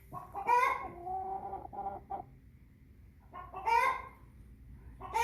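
An old American Bresse hen clucks close by in two short bursts of throaty, rising calls separated by a brief pause, with a faint low rumble underneath.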